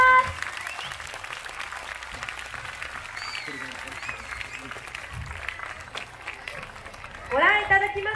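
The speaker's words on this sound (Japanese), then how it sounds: "今一度大きな拍手をよろしくお願いします。" An outdoor crowd at an island-wide lion dance festival in a bullfighting arena gives sustained, moderately distant applause after a traditional performing-arts group finishes, with a voice talking over the clapping at times.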